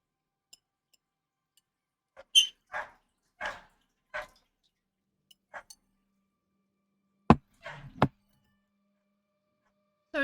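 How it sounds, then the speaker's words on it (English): A dog barks in the background, a few short, scattered yaps with quiet gaps between them, fairly faint and with no talking over them. "So dog barking in the background, that's me."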